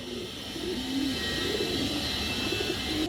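Domestic pigeons coo softly in a loft, low wavering throaty calls repeating over a steady background hiss, fairly quiet and close by.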